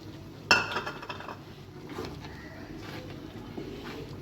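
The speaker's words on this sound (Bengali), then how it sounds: "কাঁচামরিচ দিয়ে দিচ্ছি কটা" Green chilies dropped into a pot of cooking dal, with one sharp clink at the start followed by softer clatter and faint pot sounds that fade into a low background hum.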